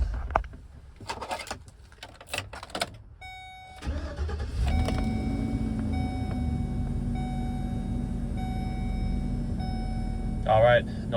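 A 2010 Chevrolet Express 3500 12-foot box truck engine cranks and catches, then settles into a steady idle; someone talks briefly just before the start.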